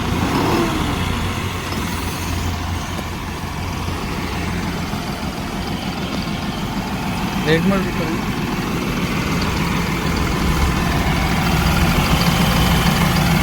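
A New Holland 5620 CRDi tractor engine starts and settles into a steady diesel idle, a continuous low throbbing rumble nearby, with someone speaking briefly over it.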